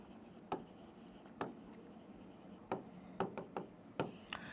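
Chalk or marker strokes on a board during a maths lesson, with sharp tapping and scratching marks in irregular bursts, close and fairly quiet, and no talk over them.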